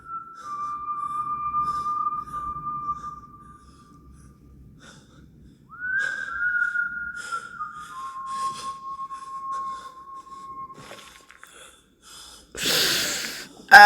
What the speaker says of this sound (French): Encore ce sifflement.